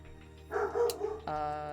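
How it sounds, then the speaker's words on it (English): A dog barks indoors, one short burst of yips and a bark, moderately close but somewhat muffled, followed by background music. "Sorry if you can hear my dog."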